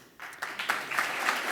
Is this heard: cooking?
no